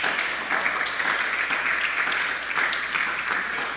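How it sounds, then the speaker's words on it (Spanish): A church congregation applauds during a sermon, many hands clapping in a continuous, even wash that fills the room at moderate loudness. "Le da un aplauso al Señor,"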